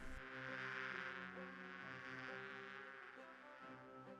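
Steady insect-like bee buzzing in the 1996 video game Discworld II over a droning, music-like background, continuous and fairly loud throughout, with no talking.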